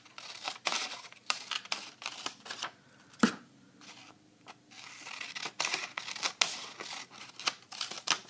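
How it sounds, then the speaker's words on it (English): Scissors cutting paper into strips along dotted lines, a close, steady series of crisp snips and rustles with brief pauses in between, and no talking. "you're going to cut across the horizontal dotted lines like I'm showing you"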